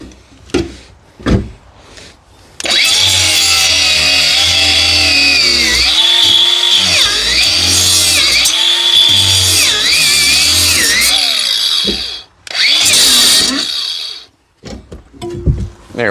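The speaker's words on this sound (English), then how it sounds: "more often than not, you're still going to have to do a little bit more with the grinder" Angle grinder cutting through the steel reinforcement of a junk boat, a loud sustained high whine with shifting pitch as it bites, preceded by a few knocks and ending in short bursts.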